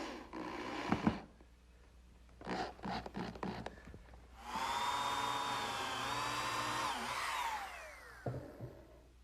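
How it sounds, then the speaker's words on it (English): Power driver running screws through glue-coated pine support blocks into a workshop furniture frame, several short whirring bursts followed by a longer, steady, close driving run that winds down. "they just get put on with some glue and screws"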